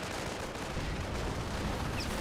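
An aircraft strafing run in Company of Heroes 1, heard as a dense, continuous rattle of gunfire and explosive crackle that fills the whole stretch without a break.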